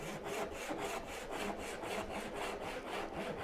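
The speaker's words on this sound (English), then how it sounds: "Cutting tenons." A hand saw cuts wood tenons for joinery, its strokes rasping steadily and close by in an even back-and-forth rhythm with no pauses, alone without any voices.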